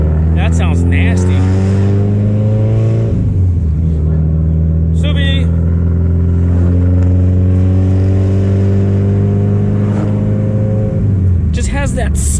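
A Subaru STI fitted with a Tomei exhaust and a big turbo drives slowly, its loud, raspy, spitty exhaust drone holding steady with a few rises in revs, while someone talks over it throughout.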